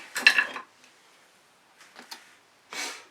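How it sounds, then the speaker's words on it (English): Paint being wiped and scraped off a spatula makes a couple of short bright scraping swipes at the start and end, with faint small clicks between and near silence otherwise. "now I'm going to clean off my spatula"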